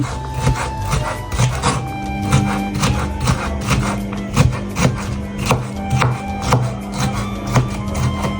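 A knife chops red peppers into julienne strips on a board, giving a brisk, regular stream of sharp close taps with a slight scraping rub between strokes, heard alone without talk.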